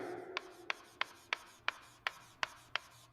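Chalk taps and strokes on a blackboard in a steady rhythm, eight sharp, evenly spaced marks, close and fairly quiet with no voices.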